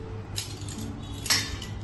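Small metal spoons meant for a masala spice box clink together lightly, two brief close chimes against quiet background noise.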